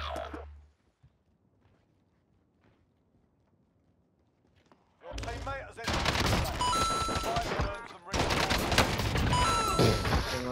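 Gunfire in the video game Call of Duty Warzone, with quiet, sparse sounds at first, then dense, loud automatic bursts that break off briefly and resume.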